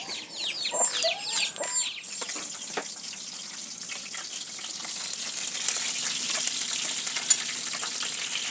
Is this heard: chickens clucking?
yes